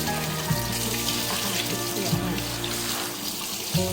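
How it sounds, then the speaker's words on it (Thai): Running tap water splashing while a plastic basket is washed under it, a steady close gush with small clunks as the basket is moved in the stream, no talking. "ก่อนอื่นนะคะเดี๋ยวเราจะล้างตะกร้าก่อน"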